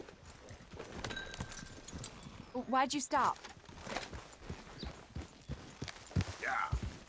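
Horse hooves walking in Red Dead Redemption 2, a steady run of soft clip-clops at close range under spoken dialogue, with a brief whinny-like burst midway.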